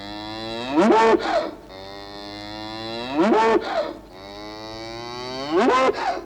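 A cow moos three times at a steady interval, loud and close, as a sound effect in a BBC radio play, with no voices over it.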